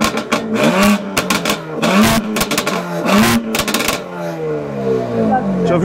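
A car engine with its exhaust valves closed revs in repeated short bursts, each rising and falling, loud and close, with a person talking over and between the revs.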